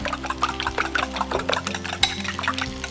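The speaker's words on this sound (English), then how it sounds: "just with a fork, beat the eggs together" A fork beats eggs in a bowl, giving a quick, irregular run of light clinks and wet slaps, close and busy for the whole stretch with no talking.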